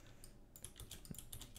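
Quiet keystrokes on a computer keyboard, a brief burst of several soft clicks in quick succession after a short hush, recorded close but at low level.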